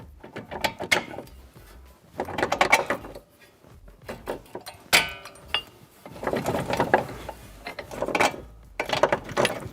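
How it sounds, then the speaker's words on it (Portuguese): Lower strut mounting bolts come loose on a 12th-generation Toyota Corolla during front shock absorber replacement. Close, clattering bursts of ratchet clicks and metal rattling alternate with short pauses, with no voices. "nós só vamos soltar então os parafusos da fixação inferior, soltando o montante e retirando a coluna do veículo"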